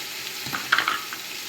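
Green masala fries in a pressure cooker pot for chicken palav, a brief close sizzle with a few stirring scrapes in the middle of a steady frying hiss.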